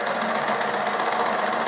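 A sewing machine runs a long basting stitch along a fabric seam, giving a steady, fast, even mechanical whirr with a light rhythmic tick, close and alone.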